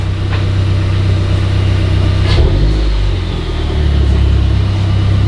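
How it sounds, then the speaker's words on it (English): A MazdaSpeed 3 engine pulling out of a garage, a loud steady low rumble heard from inside the car with a slight swell in revs partway through, no speech. "I'm gonna get my first reactions on pulling out of the garage because I'll get some throttle on it."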